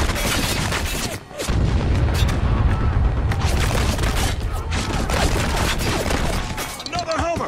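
Mortar fire and explosions in the war shooter Spec Ops: The Line, with dense, loud continuous blasts and gunfire rolling almost without pause, and a brief drop in the din before the barrage resumes.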